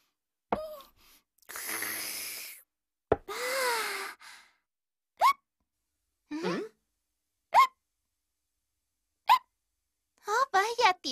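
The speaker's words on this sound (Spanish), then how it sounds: "¿Tienes hipo?" A cartoon girl hiccups several times with sharp, brief hiccups spaced a second or two apart, mixed with gasps, breaths and other vocal noises in a quiet room.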